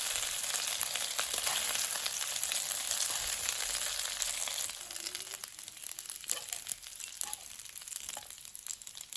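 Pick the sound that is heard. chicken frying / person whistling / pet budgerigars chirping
chicken frying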